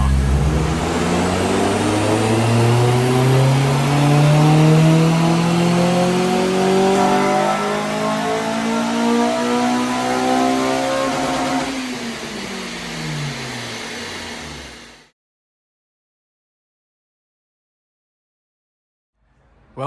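A tuned Honda Civic EP3 Type R with its K20 engine revs hard on a rolling road dyno, loud and close, its pitch climbing steadily through a long power run before dropping away and cutting to silence near the end.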